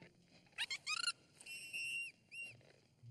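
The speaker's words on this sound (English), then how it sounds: "Give us a nice whistle now." A cartoon baby dolphin gives a few high, clean whistles: short chirps first, then a longer sustained whistle and a brief final one, close and alone over a quiet background.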